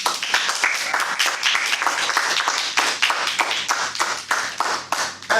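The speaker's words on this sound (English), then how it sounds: "we just applauded for you" Audience applause at a Toastmasters club meeting, a dense, steady patter of many hands clapping at close range that holds strong for about five seconds with no talk over it.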